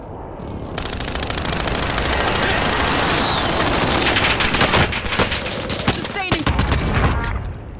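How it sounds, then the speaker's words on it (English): Rapid bursts of gunfire fill a video game firefight, dense automatic shots rattling loudly and continuously with brief gaps and sharper cracks near the end. "Oh, I missed every single shot."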